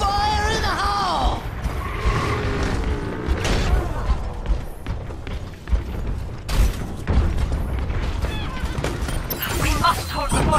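A loud blast and rapid weapon fire go off during an Overwatch match at King's Row, with Bastion in the fight, among mechanical clanks and character voices.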